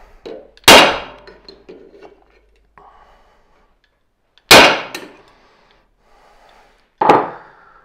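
Three loud metallic hammer blows on a drift punch while repairing a Skif 422A knife, landing with gaps between them, each ringing briefly before fading, with faint clinks in the quiet stretches.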